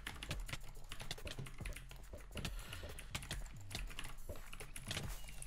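Fast typing on a Royal Kludge keyboard during Minecraft UHC play: dense, steady keystroke clicks close to the mic with no pauses and no voices.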